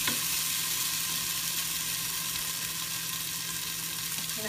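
Potatoes for corn chowder frying in a pan, a soft, even sizzling hiss that carries on steadily and fairly quietly with no talking.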